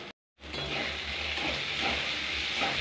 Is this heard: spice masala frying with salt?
yes